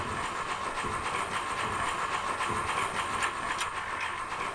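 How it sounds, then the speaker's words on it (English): Train rattling along steadily inside the horror game Echo Night, a continuous clattering rumble with hiss, close and even throughout with no talk. "Slow day on the train, I see."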